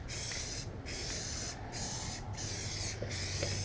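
Flexi Dip rubber coating sprayed from an aerosol can onto the underside of a 2016 Subaru WRX front bumper, a loud continuous hiss in several long bursts separated by brief pauses.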